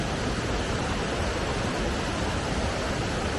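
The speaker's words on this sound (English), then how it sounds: "You just come here, you sit, and you just listen to the water" Jackson Falls waterfall in the Mount Washington Valley gives off a steady, loud broadband rush of falling water, close by and unbroken, with no voices.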